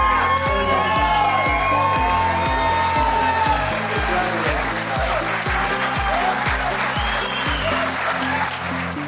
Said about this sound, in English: Standing round of applause, this year's champion